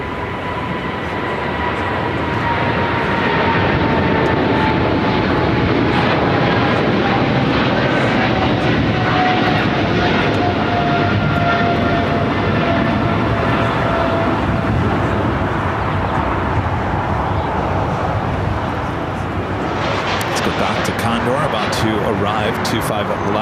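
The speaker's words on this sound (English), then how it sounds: "Eva Air Cargo, the 777 freighter, now taking off here on the south side." EVA Air Cargo Boeing 777 freighter taking off from the south side at LAX: a loud, sustained engine roar with a slowly falling whine, with talk over it and a rougher rumble near the end.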